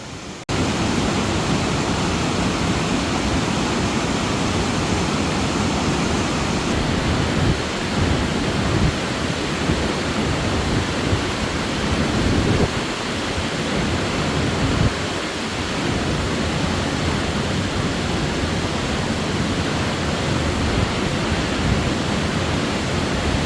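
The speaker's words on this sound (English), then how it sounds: "It takes you to multiple viewing areas along the creek and tiered waterfall." A tiered waterfall along a creek, beside a half-mile trail off a highway, produces a steady, loud broadband roar of rushing water that holds constant and close throughout, with no talking.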